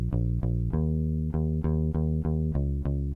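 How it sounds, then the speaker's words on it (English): Deep plucked bass from the Ample Bass Lite plugin in a beat, playing a simple evenly spaced pattern of about ten sustained notes, loud and clean with no voices. "For the bass, my advice is to use Ample Bass Lite, a free plugin that has a crazy quality."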